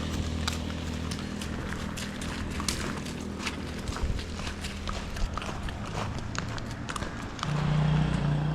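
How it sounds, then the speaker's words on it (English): A horse walks along a quiet street in Suchitoto, El Salvador, its hooves clip-clopping in a steady, fairly close rhythm over a low hum of outdoor background noise. "Bonito el caballo."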